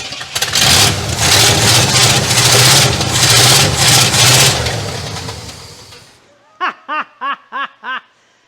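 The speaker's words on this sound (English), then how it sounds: "let's rev the shit out of it one more time for fun" The engine of an abandoned 1967 Cadillac DeVille, run for the first time in 40 years and suffering vacuum leaks, revs loud and rough for about six seconds, then cuts off, followed by several short bursts of laughter.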